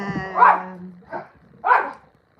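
Dogs barking indoors: three sharp barks in quick succession, fairly close and loud, with a voice murmuring at the start.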